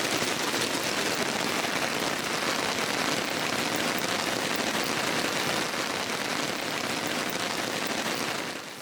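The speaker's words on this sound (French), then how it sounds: "à écouter la grêle tambouriner comme si elle nous en voulait personnellement. Ça grêle." Hail drums densely and steadily on a camping tent roof in the mountains, a loud, unbroken clatter that fills the whole span.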